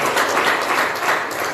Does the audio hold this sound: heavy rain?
no